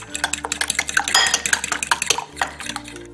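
A non-electric hand mixer beats eggs, milk, cinnamon and vanilla extract in a bowl, producing rapid clattering and rhythmic metallic clicks close up, with no talking.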